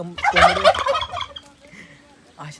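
Turkeys let out a loud, rapid burst of gobbling up close, which fades into quieter calls before a short final gobble.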